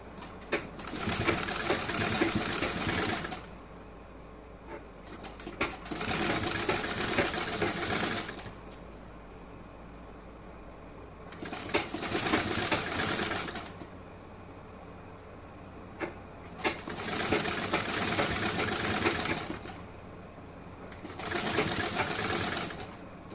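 A sewing machine stitches a blouse in five steady bursts of several seconds each, close and fairly loud. Between the bursts a constant high insect-like whine hangs in the background.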